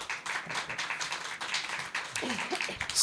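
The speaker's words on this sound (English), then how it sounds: "Can we just give them a round of applause and we'll get started?" Audience applause for a panel on stage at a civic responsibility and disinformation talk, a fairly quiet, loose patter of clapping from a small crowd, with some individual claps standing out and a brief voice near the end.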